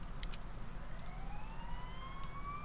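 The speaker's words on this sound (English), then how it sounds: "You hear sirens nearby" Faint, distant sirens in the video game Persona 4 Golden slowly rise in pitch, steady and continuous, with a couple of brief high chirps early on.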